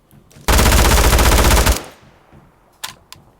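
Sustained automatic gunfire from a battle royale shooter game on the Livik map, a loud unbroken burst of rapid shots lasting over a second, followed by a couple of faint isolated clicks.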